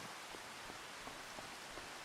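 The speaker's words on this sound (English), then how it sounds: "you guys can hear the sound of the rain falling on the roof of the tractor, too." Rain from a storm in the Farming Simulator 25 video game falls on a tractor cab roof, making a steady, faint, even hiss of patter that stays constant throughout.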